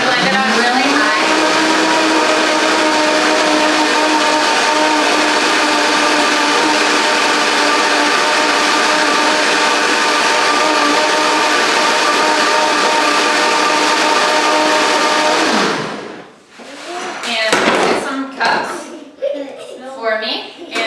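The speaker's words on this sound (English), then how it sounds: "I'm gonna blend it up really high." A high-powered blender runs at high speed on a deep green lactation smoothie, a loud, steady, whining motor drone that lasts about fifteen seconds and then cuts off, followed by a few clattering handling sounds.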